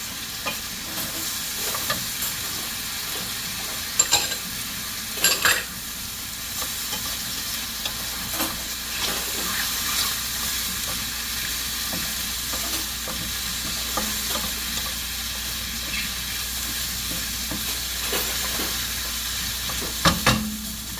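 Green peas fry in hot oil for paella, a steady close sizzle with soft crackles and a few sharper pops and scrapes of stirring throughout.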